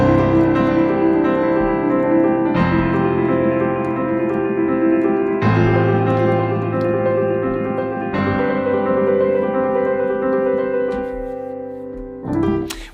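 Piano chords ring out in several sustained blocks, each struck afresh every few seconds with a single low left-hand bass note beneath; close and clear, no voices.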